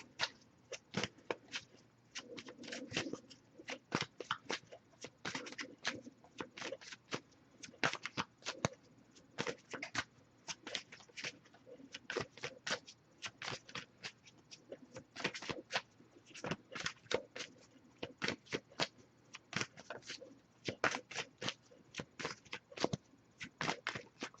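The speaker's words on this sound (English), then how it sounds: "if I shuffle for a while and nothing comes up, I'll just move on to the next Oracle deck" Oracle cards are shuffled again and again, a long run of quick, soft riffling clicks close by, with no voices.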